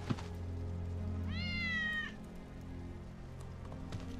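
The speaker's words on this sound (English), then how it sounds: "That's Wedge's cat." A cat in Final Fantasy VII Remake gives a single clear, drawn-out meow over a soft steady rain-like game ambience.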